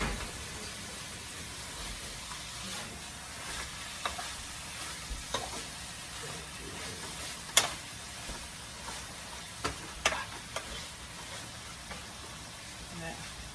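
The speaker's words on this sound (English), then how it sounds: "I like when I go ahead and stir fry my onions, because it lets it render that sweet taste out of it." Chopped onions stir-fry in a pan for homemade spaghetti meat sauce, a steady loud sizzle with occasional scraping knocks of a utensil stirring, and a voice talking over it.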